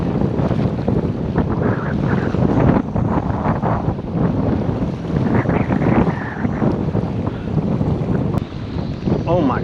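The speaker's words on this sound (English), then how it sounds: "Those waves almost took me overboard." Strong wind and surf battering a saltwater fishing kayak at sea during a storm, a loud continuous roar of gusts and crashing waves with heavy microphone buffeting throughout.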